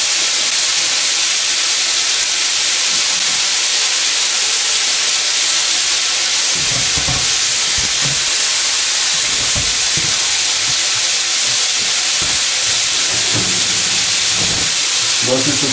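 Pork frying in a pan, a loud continuous hiss of spattering fat filling the whole stretch, with faint talk and clatter underneath.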